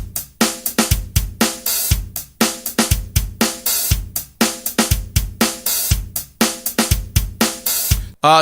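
A programmed drum pattern loops alone: bass drum on beats one and three plus an extra hit, snare on two and four, a steady hi-hat, and an open hi-hat sizzling near the end of each bar, crisp and close.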